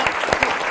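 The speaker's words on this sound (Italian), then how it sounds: "tutto il nostro studio con questo applauso vi dà un augurio di concludere bene" Studio audience applause at a live televised sports event broadcast, dense steady clapping filling the short moment without any talk.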